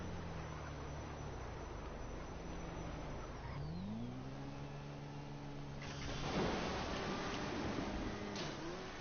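A spawned car in GTA Online idles, then revs up with the engine pitch rising and holding, while a sharper burst of noise breaks in partway through.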